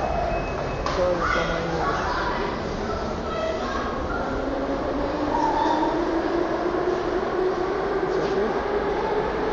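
Moscow metro train pulling into Kon'kovo station, a loud steady rumble with rising motor whine and squealing brake tones as it arrives, echoing in the underground platform.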